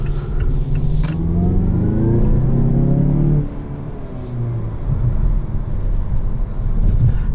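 2021 Mazda6 Carbon Edition turbo pulling hard from inside the cabin, a loud rising engine note climbing through the revs, then a brief dip and a steady roaring drone with road rumble.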